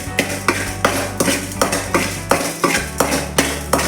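Coriander seeds and cumin are stirred in a pan with a rhythmic scrape-and-rattle about three times a second, each stroke a crisp metallic sweep, with only faint frying underneath.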